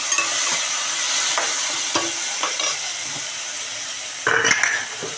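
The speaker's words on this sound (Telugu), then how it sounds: "టమాటా ముక్కలు వేసేస్తాం." Tomato pieces sizzle in a pan of fried onions for a potato curry while a utensil stirs them. The steady frying crackle is broken by scraping and clinking strokes, with a louder stir near the end.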